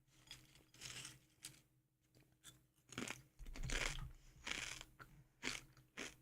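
Crunchy chips made from chicken being chewed right at the mouth, a run of sharp, brittle crunches in uneven bursts, with louder bites toward the end.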